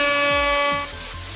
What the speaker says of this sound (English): leaves us with another air horn and despair